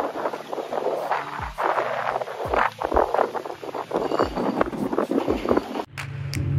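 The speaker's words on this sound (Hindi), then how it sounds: "देखो बहुत तेज हवा चल रही है यहाँ।" Strong wind buffeting the microphone at an airport, loud irregular gusts and rumbling bursts that come and go, with a sharper rush near the end.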